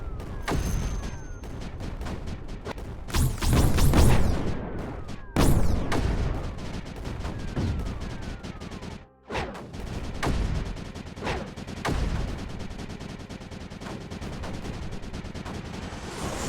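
Cannons and missile launchers in the strategy video game Creeper World 4 fire in dense, overlapping volleys of booms and sharp cracks, loud and nearly constant with brief lulls between heavy bursts.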